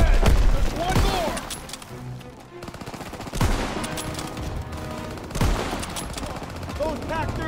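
Heavy World War II gunfire in a Call of Duty battle, with bursts of machine-gun fire, rifle shots and booms overlapping throughout, loud and dense, with voices shouting under the shooting.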